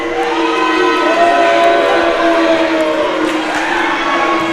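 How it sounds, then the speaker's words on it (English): Basketball crowd in a high school gym voicing loud, sustained disapproval over a warning given to the Kerens coach, with a steady mix of voices and shouts filling the whole stretch. "Kerens crowd doesn't like it too much"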